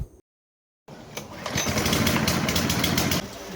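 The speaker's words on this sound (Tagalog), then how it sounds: "maaadi ka kakatulak ng lawn mower na to" Powerhouse push lawn mower starting up after a brief silence, its small engine settling into a close, steady buzzing drone that drops slightly near the end.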